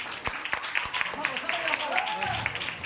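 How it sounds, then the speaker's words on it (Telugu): A crowd claps for young performers at a stage event, making a steady patter of applause that runs under someone speaking loudly over a microphone. "మరొకసారి వీళ్ళకి క్లాప్స్ కొడదాం."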